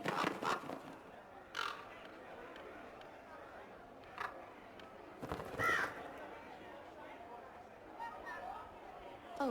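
Birds caw in the video game Dragon Age Inquisition, several separate harsh calls spaced apart over a soft ambient bed with murmured background voices.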